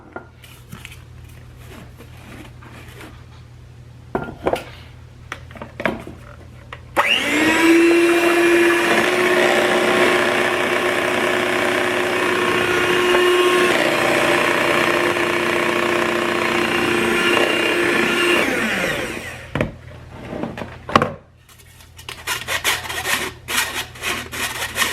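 An electric hand mixer whirs through pumpkin bread batter with ginger, baking soda and baking powder, a loud continuous motorized drone lasting about fourteen seconds, framed by quieter kitchen clatter before and after.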